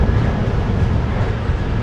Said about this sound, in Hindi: ट्रेन नंबर है 16543 यशवंतपुर हुबली एक्सप्रेस